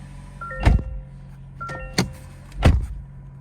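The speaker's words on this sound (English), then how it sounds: "Let's close the door here." Three solid thumps spaced about a second apart, like the doors of a 2023 Toyota Crown shutting nearby, over a low steady hum with faint electronic tones.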